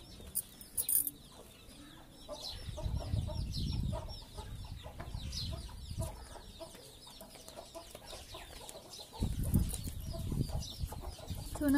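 Chickens cluck repeatedly at close range, with short throaty calls scattered throughout and louder flurries of clucking and wing flapping at a few points.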